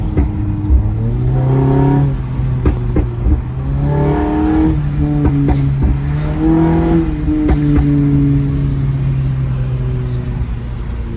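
A Toyota Camry engine with a pops and bangs exhaust tune revving in repeated rising pulls, with sharp crackling exhaust pops between revs, loud and close inside the car.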